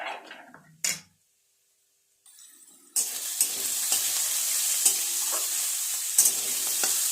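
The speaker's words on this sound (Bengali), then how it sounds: "সবজি ডালের সমস্ত সবজিগুলো আমার ভালোভাবে ভাজা হয়ে গেছে" Mixed vegetables for a vegetable dal being stirred and fried in a pan: a brief scrape, then a short pause, then a steady loud sizzle with occasional clinks of the spatula.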